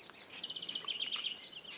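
Small birds at a garden feeder chirp in quick bright trills and rapid repeated tweets, fairly clear against a quiet background.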